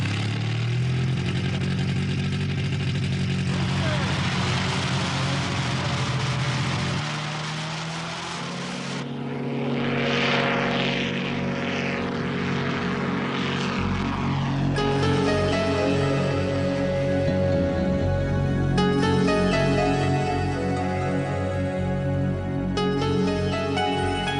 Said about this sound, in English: No one has ever flown an ultralight this high above the peaks of the Himalayas.